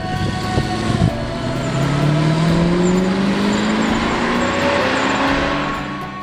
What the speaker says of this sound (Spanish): conducimos el Mercedes 500 SL 1981, versión Fendi.